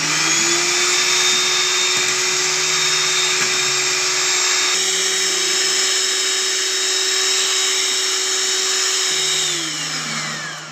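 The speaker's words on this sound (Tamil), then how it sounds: "100 ml ஆயில் சன்ஃப்ளவர் அதில் ஆட் பண்ணிவிட்டு அப்புறம் திரும்ப கொஞ்சம் நேரம் மிஷினில் போட்டு அடிக்கலாம்" An electric mixer beating beetroot cake batter with added sunflower oil, a loud, steady motor whine that runs continuously close by, shifting pitch slightly before winding down at the end.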